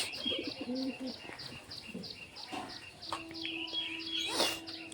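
Pet pigeons cooing in a loft, soft repeated coos mixed with chirps and a brief wing flap, fairly faint and close.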